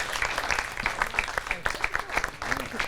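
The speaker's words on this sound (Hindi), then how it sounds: "मैं चाहता हूं हमारे स्टूडियो में जोरदार तालियां बजाकर स्वागत कीजिए कल्पना शुक्ला जी का।" Studio audience applauding loudly to welcome a poet onto a Holi festival show, a dense, steady wash of clapping with a few sharper individual claps standing out, continuing throughout.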